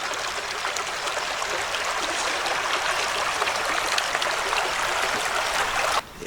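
French Creek, near an old iron furnace in Pennsylvania, flows with a steady broadband rush and trickle of water, close and continuous, cutting off abruptly at the end.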